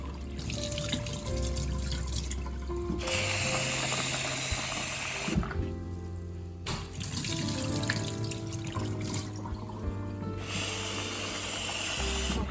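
Rice for chicken biryani is washed under running water, with a tap gushing loudly in bursts and quieter pauses between as the grains are swished and rinsed.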